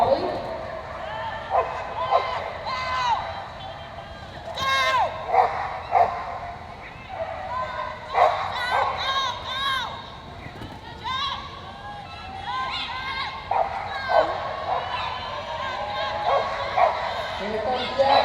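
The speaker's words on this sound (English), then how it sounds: "This is Jen, the Border Collie" A Border Collie barks and yips repeatedly amid a noisy crowd at an indoor agility competition, the sharp barks recurring throughout over steady background chatter and arena commentary.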